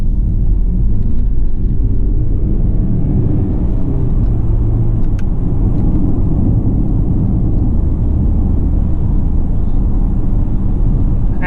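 A Mercedes G350d diesel engine drones while driving, heard from inside the cabin as a constant low rumble with a steady road roar running unbroken throughout.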